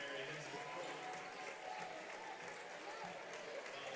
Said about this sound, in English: Gets all her seniors a round of applause as they depart.